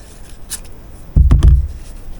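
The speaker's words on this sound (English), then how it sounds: "We're going to kind of cut this out a little bit." Scissors snipping through fabric to cut out a raw-edge applique piece, a couple of close, quick crisp cuts after a quiet stretch, with no talk.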